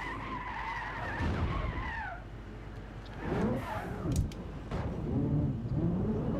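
A race car skids in Gran Turismo 6, with tires squealing in long wavering glides over a low engine rumble, followed by further screeching slides and a thud close up.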